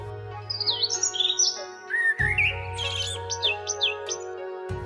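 Several birds chirp and tweet in a dense forest at Dahare Deurali, Nepal, with quick, rising and falling calls close by over a steady background hum.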